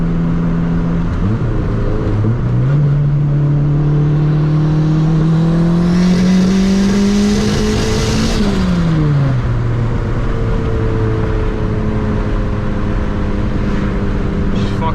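A turbocharged EG car accelerates hard on a pull, its engine note climbing steadily, then dropping briefly and climbing again, close and loud from start to finish. The hit is not clean or smooth.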